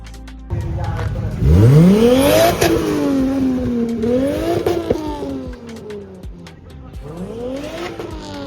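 A race car at Castle Combe circuit accelerates hard past on track, its engine note sweeping up loudly, then easing and rising again through gear changes as it fades into the distance.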